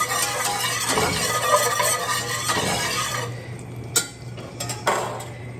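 Butter foaming and browning in a pan is stirred, with a steady low sizzle under several scraping passes of a utensil and a few sharper clinks against the pan near the end.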